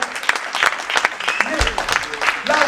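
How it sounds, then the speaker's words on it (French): A church congregation applauds for Jesus during a pastor's sermon, with steady clapping mixed with voices speaking over it. "Est-ce qu'on peut applaudir pour Jésus?"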